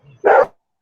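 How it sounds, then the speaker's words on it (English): A single loud, close bark from a dog on a porch, one short sharp burst preceded by a faint low whine, then silence. "I was waiting for the dog on the porch to start barking"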